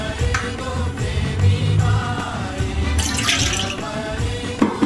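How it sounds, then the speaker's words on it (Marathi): Water is poured from a vessel onto the lid of a cooking pot, splashing and trickling in an uneven pour with a brief brighter gush partway through, close and fairly loud. "आता आपण 2 मिनिटं झाकण ठेवू आणि त्यात पाणी ठेवूया वर।"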